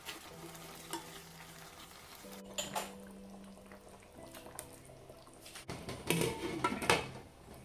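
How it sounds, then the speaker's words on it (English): Soft sizzling of sorrel leaves frying in a pan, with a spoon stirring and scraping, the clatter growing busier toward the end. "I will fry the sorrel green leaves for about 3 minutes"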